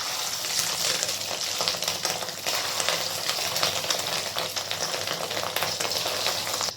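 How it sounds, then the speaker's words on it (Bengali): Fish roe fritters frying in hot mustard oil in a karahi on low heat, a steady dense sizzle and crackle that runs unbroken and fairly loud throughout, with no one talking. "এরপর আমি মাছের ডিমগুলোকে ভেজে নেব।"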